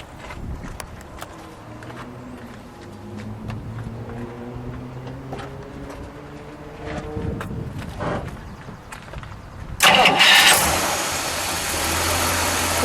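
A 1959 DeSoto Adventurer with a 383 dual-quad V8 cranks and fires near the end after a long stretch of low background rumble, then catches at once and settles into a loud, steady idle close by.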